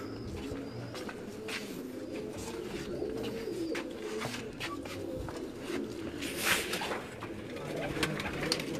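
Breeder pigeons coo softly and repeatedly from rooftop cages in Quetta, a close, layered murmur of birds running throughout with other chirps mixed in.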